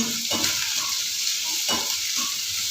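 Potatoes and green chillies fry in a hot pan with a steady close sizzle, broken by a few short scraping stirs; no one speaks.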